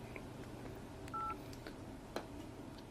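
A phone's dial pad gives off a single short touch-tone beep as a key is tapped, faint and brief against quiet background handling noise.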